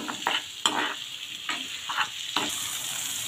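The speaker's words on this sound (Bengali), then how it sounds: "এবার নাড়া দিয়ে দিব, ভালো করে কষিয়ে নিলাম।" Chopped garlic, onion and spices sizzle in a pan as they are stirred, with several distinct scraping strokes over a constant frying hiss, close and without voices.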